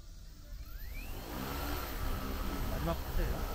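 A training drone spins up and lifts off in a steady, rising motor whine with a broad whooshing roar of rotor wash, close and continuous, while a voice talks over it.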